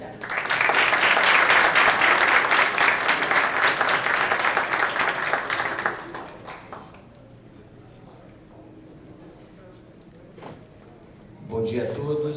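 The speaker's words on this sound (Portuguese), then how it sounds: "Uma salva de palmas para o nosso convidado." Audience applause for a guest speaker, a doctor of social sciences, at a Students for Liberty event: a dense, loud burst of clapping for about six seconds that fades out, followed by quiet room tone and a voice beginning to speak.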